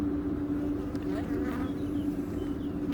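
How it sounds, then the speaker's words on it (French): Dense, steady buzzing of many honeybees at an open hive during a beekeeping lesson, close and continuous for the whole stretch. "ce que je vois, c'est qu'il y a beaucoup plus d'abeilles là, donc on va voir"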